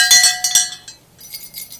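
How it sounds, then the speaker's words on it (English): Small bells fastened to backpacks jingle in a few quick, bright shakes, then fade to a softer, scattered tinkling, heard alone without voices. "We put bells on our backpacks,"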